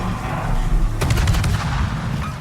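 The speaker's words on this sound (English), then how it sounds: "these 130mm guns are really easy to use" Naval 130mm guns firing aboard the Kiev in a video game, a rapid cluster of sharp shots starting about a second in over a constant low engine rumble.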